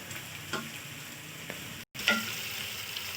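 Potatoes frying in a pan over a medium-low flame, a continuous soft sizzle with occasional spoon taps and stirring scrapes, one brief cut to silence midway.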